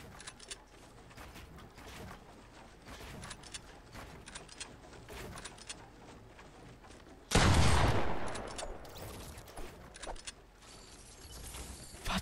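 In a shooter video game, a silenced sniper rifle fires among many sharp clipped shots and rapid gunfire cracks, with one louder, longer blast standing out midway.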